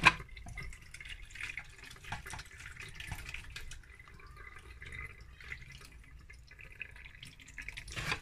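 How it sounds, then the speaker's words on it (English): Water trickling and dripping steadily through a sieve while making stew, a soft continuous splashing patter with a few louder drips, no voices. "So we are going to be sifting because we don't want any water."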